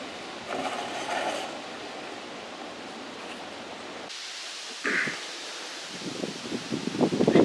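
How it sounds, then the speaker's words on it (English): Strong night wind rushes through plants in gusty, broad noise, shifting in intensity with rustling bursts and louder gusts near the end. "Yeah, so it's really windy."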